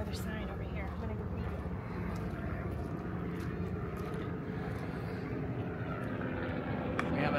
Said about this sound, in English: we have a helicopter right there doing.